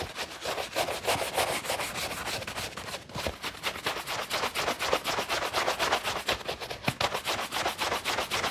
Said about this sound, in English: to buff, we're going to use a nice big horsehair buffing brush, and you're just going to use nice big strokes across the shoe